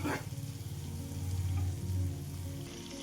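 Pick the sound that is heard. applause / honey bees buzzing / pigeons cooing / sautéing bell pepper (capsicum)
sautéing bell pepper (capsicum)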